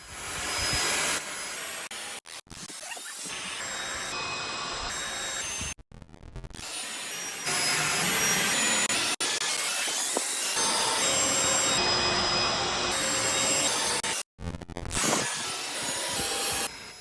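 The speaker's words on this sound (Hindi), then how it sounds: "अभी इस वैक्यूम क्लीनर का जो मेन परफॉर्मेंस है वो आप यहाँ पे क्लियरली विजिबल कर पाओगे" An AGARO Regal 800W handheld vacuum cleaner sucks up dust with a loud, steady motor whine and rushing airflow. It cuts out briefly several times, and the pitch shifts as the nozzle moves, close and without talk.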